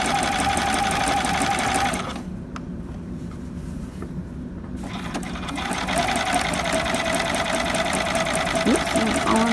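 A sewing machine stitching knit binding hums steadily and close, stops for a few seconds, then runs again at an even pace.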